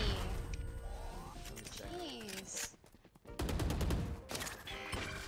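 Rapid gunfire bursts during a Valorant ranked match, loud clustered shots broken by a short lull and then more firing, with game sound effects and voices mixed in.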